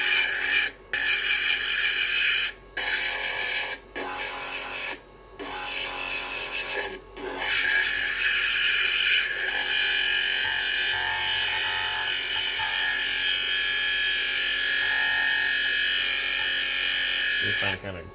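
A stone is pressed against a spinning polishing wheel to smooth a pitted spot, giving a loud, continuous gritty hiss and rasp with a few brief breaks early on before a long, unbroken grinding stretch.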